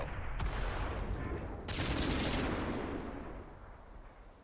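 A heavy cannon blast booms nearby, followed by a second sharp burst and a long rumbling decay, like a tank firing in World of Tanks.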